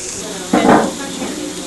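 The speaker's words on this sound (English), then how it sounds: "So it's got a little bit of oil in it. So we're just going to saute that for about 5 minutes." Vegetables hit hot oil in a saucepan and set off a sudden burst of sizzling. The sizzle is close and loud for about half a second, then settles into a softer frying hiss.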